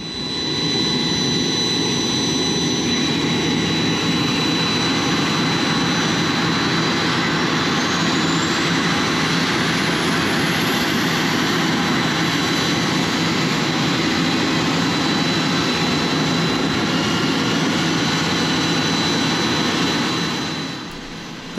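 A jet aircraft's engine roars loud and continuous, a steady broadband whine with a rising high tone partway through, on an airfield as the crew tries to restart it; no talking.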